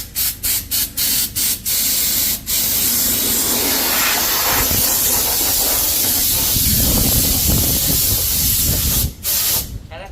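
Oil sprayed from a can onto a bicycle in a repair shop: a string of short hissing bursts at first, then a long, steady, loud spray hiss close by.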